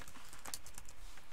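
Typing on a computer keyboard while entering a font name in a word processor: a quick close run of light key clicks with no talking.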